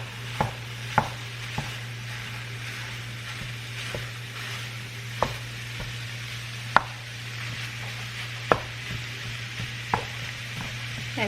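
Ground beef being broken up and browned in a pan for keto lasagna: a spatula taps and chops at a loose, roughly regular pace, some strikes sharp and loud, over a constant low sizzle.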